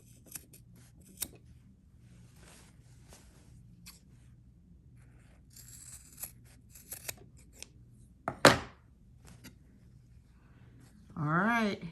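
Scissors snip through fabric along a sewn stitch line while making a ruffle bag, a string of close, crisp cuts with quiet pauses between them and a short spoken phrase near the end.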